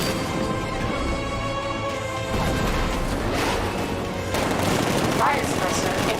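Tank cannon fire in a Batman video game set in Chinatown, a dense continuous barrage of blasts and crashes layered over game music and effects, loud and close throughout.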